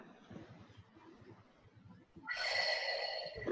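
A person breathing during an upper-body lymphedema breathing exercise: faint breaths at first, then a long, strong, close nasal inhale that carries on to the end.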